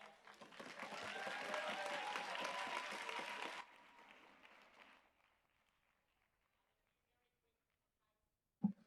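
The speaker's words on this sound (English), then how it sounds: "can we have another round of applause for all the teams in the grand final?" An audience at a debating championship grand final gives a round of applause, loud and dense at first, then dropping off sharply and trailing away into near silence before a single knock.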